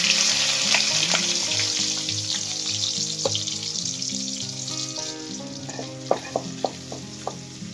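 Crushed onion fries in hot oil with mustard seeds, a loud, continuous crackling sizzle close by. Sharp pops and clicks come through toward the end, with no talking.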